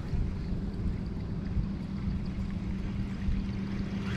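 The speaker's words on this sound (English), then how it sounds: "Got a little wind now." Wind gusting over a lake during a bass fishing tournament on Neely Henry, a steady rumbling rush with buffeting against the microphone, continuous and fairly loud.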